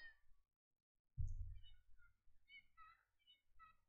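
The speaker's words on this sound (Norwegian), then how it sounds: "Å herregud, den katten her er masete." A cat in the video game The Sims 2 meows repeatedly in short, plaintive calls after a soft thump, fairly quiet and alone.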